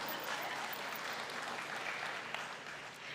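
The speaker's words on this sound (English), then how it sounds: "come on, we can clap." Audience clapping at a college convocation: sustained, even applause from a crowd, faint and diffuse as if across a large hall, with no voices over it.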